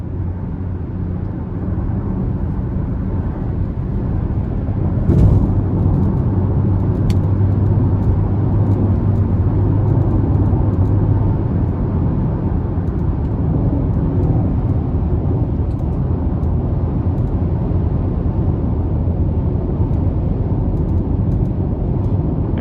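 A 2022 GMC Terrain SLT with the 1.5-litre turbo engine and nine-speed automatic cruising on an interstate, a steady loud cabin drone of road and engine noise with little variation.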